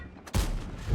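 A tank gun in World of Tanks, played in the Nemesis, fires a gold shell with one sudden loud blast after a brief quiet lead-in, then a rumbling tail rolls on to the end.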